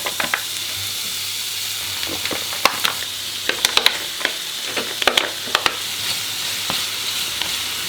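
Smoked bacon lardons fry in a pan of oil, a steady close sizzle with scattered sharp pops and occasional utensil stirs, no voices.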